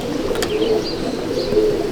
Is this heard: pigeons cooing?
yes